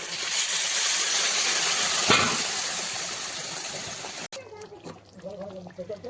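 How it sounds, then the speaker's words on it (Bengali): Mutton stock poured into a hot pot of mutton korma gives a loud, steady sizzling hiss that fades over several seconds, with a brief splash partway through. A voice then speaks quietly over softer kitchen noise. "এবার আমি দিয়ে দেবো মাটন স্টক"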